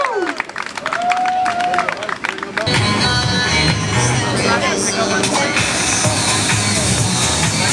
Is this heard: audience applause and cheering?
yes